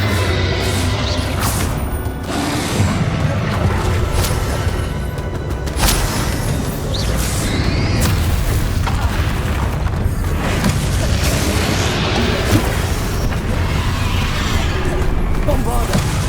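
Bombarda spell explosions in Hogwarts Legacy combat, a loud continuous barrage of booming blasts and crashes over a dense battle din, with shouted voices mixed in throughout.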